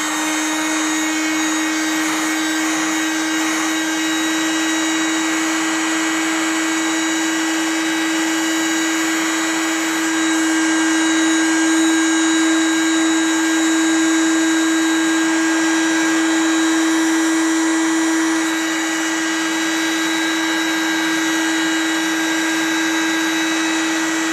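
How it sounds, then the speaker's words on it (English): A heat gun blows a steady, loud, unbroken whine and rush of air while shrinking heat shrink tubing over wires, close by and alone with no talking. "Got my heat gun, make sure the heat shrink's in place where you want it, and go ahead and start shrinking it"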